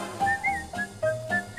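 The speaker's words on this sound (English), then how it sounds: "Some like to whistle," A person whistles a bright, bouncy melody in short phrases, accompanying a cheerful sung tune over soft instrumental backing.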